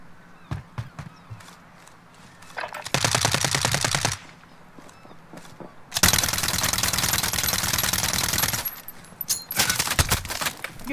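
Full-auto gunfire in a multiplayer shooter video game: scattered single shots, then two long sustained bursts of rapid automatic fire, loud and close, with further shots near the end.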